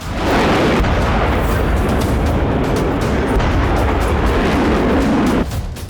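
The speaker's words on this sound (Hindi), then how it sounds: "एक कार के डैश कैम में एक बड़े विस्फोट की तस्वीर कैद हो गई" A large bomb explodes on the Bodrov highway in Russia, caught by a car's dash cam: a loud, sustained, rumbling roar that fills several seconds at steady intensity before dropping away abruptly at the end.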